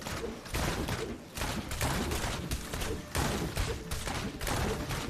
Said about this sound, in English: This is your crossbow shot.